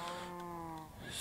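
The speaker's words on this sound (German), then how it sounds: "Da ist eine Kuh drin." A cow moos once in Minecraft, a short, fairly faint drawn-out low call with a clear tonal buzz, heard on its own.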